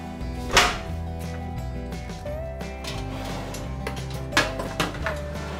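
Metallic clatters and knocks of a baking dish of leeks being slid into an oven, with a couple of sharper clanks over steady background music.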